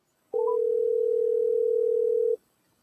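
A single steady telephone tone sounds on a call during a podcast, a clean continuous pitch lasting about two seconds, close and clear, then cutting off.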